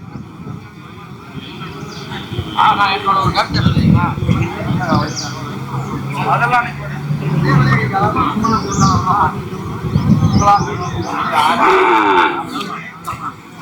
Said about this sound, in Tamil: நல்லா மாடு